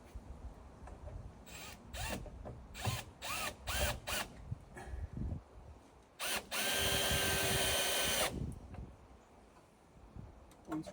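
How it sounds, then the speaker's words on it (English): A power drill drives a screw into a roof beam, several short trigger pulses followed by one sustained whirring run of about two seconds, close and fairly loud. "Screw goes in first."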